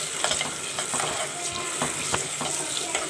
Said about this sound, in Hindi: अब मैं डाल रही हूँ इसमें अपना चिकन जो मैंने मैरिनेट करके रखा था। अब मैंने इसको अच्छे तरीके से फ्राई करना है।